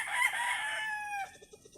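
A rooster crows once, a loud drawn-out call that trails off, followed by a few soft clucks.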